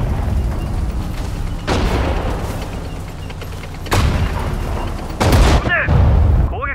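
Gunfire rings out in Sudden Strike 4 during the Battle of Okinawa in the Pacific War. Three loud bursts of shots and booms punch through a continuous background of battle noise, with the last burst trailing into ringing tones.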